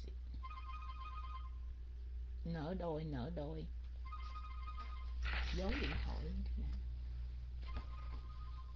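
A phone ringtone repeats in short bursts of high tones, broken up by someone speaking in between, over a steady low hum in an indoor lesson setting.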